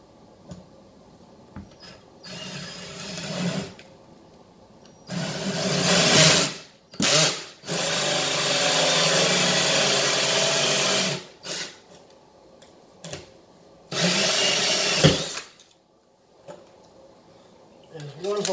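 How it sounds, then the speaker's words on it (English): A power drill fitted with a hole saw bores into the corner of a template during an install, with several long grinding bursts separated by pauses and short stop-start revs, loud and close, and a voice talking between runs. "And I'm going to drill in the corner."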